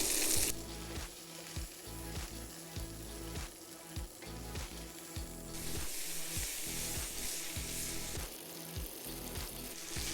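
Swedish meatballs fry in a large pan on an induction hob, a steady close sizzle and crackle running throughout with occasional stirring and shifting of the meatballs, no talk.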